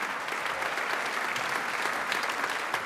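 An audience at a comedy stage show applauding, dense and continuous clapping that fills the whole moment without any voices.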